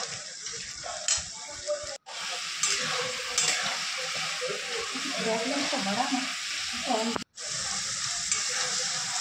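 Spice paste frying in hot oil for a mutton curry gives a continuous close sizzle with stirring scrapes, broken by two brief silent gaps.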